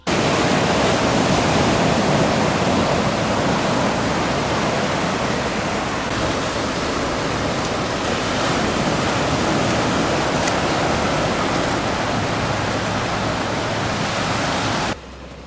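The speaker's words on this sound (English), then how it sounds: "These were probably the biggest waves we saw on our visit." Ocean waves break steadily at Crystal Cove Beach in Laguna Beach, California, a loud, continuous wash of surf that fills the whole stretch before dropping away sharply at the very end.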